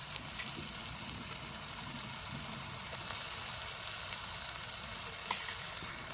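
Ginger-garlic paste and onion fry in a pan with a steady, dense sizzle that holds throughout and swells slightly midway, with faint stirring scrapes and no talking.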